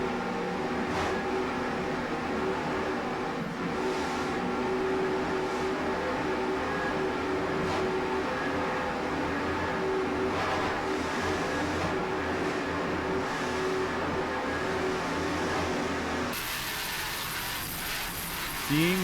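A 2004 36-foot Skater offshore powerboat races at speed, its engines producing a steady, distant roaring drone that holds unbroken before cutting away near the end, with a commentator talking over it.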